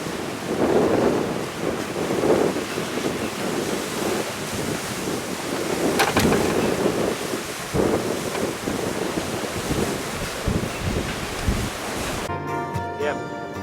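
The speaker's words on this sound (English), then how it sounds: "The sea's probably about 2 metres now." Sea waves and wind around a sailing catamaran off the Queensland coast in roughly two-metre seas under overcast skies: a continuous loud wash of surf and wind buffeting the microphone, with occasional splashes and thumps, and music starting at the very end.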